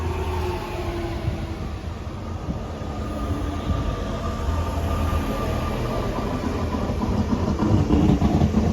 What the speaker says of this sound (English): Arriving now is the 1419 TER service from Marseille St Charles to Hyères.